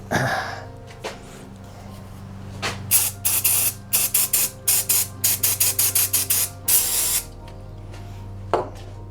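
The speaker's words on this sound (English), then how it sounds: "This looks like a job for brake cleaner." Brake cleaner sprayed onto a car part during repair work on a Mini Cooper R53, a string of short, loud hissing bursts in quick rhythm, with a longer spray near the end over a steady low hum.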